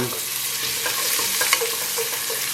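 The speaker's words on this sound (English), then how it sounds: "Then we will add the onions." Chopped onions fry in a hot pan while being stirred, a dense continuous sizzle broken by quick scraping strokes of a utensil, close and fairly loud with no voices.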